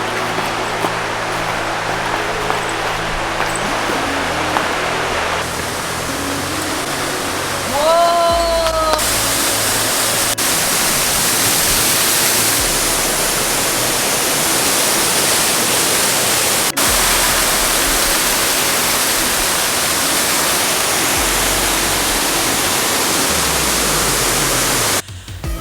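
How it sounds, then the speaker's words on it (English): Adom waterfall near Aburi, Ghana, heard as a steady, loud broadband rush of falling water that fills the whole stretch without a break. A brief tonal chirp appears early on. "Can you guys hear the sound of the waterfall?"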